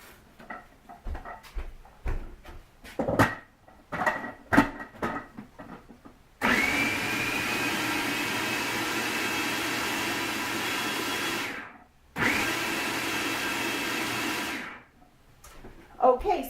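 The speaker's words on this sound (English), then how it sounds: "I'm just going to zip over to my food processor, blend this up" A food processor blends stinging nettle with oil, its motor running in a loud steady whir for several seconds, cutting out briefly, then starting again. Clicks and handling knocks come before it.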